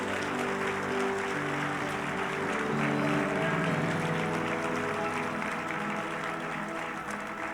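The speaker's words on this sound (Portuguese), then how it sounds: "vamos dar uma salva de palmas para Jesus" Church congregation applauds for Jesus during a Portuguese-language service, a broad sustained roar of clapping over a steady background hum with little variation throughout.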